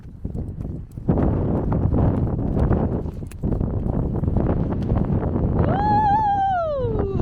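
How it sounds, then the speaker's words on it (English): Strong wind in the UK roars steadily against the microphone, a loud, rough buffeting that barely lets up, with a high whistling tone rising near the end. "It's super windy here."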